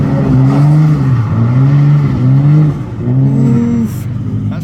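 A Nissan Skyline drift car at a drift school in Australia revs hard, its engine note climbing and dropping in four or five quick, loud sweeps, close by with no talk.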